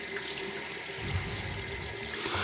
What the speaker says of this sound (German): lassen noch etwas Wasser in das Becken ein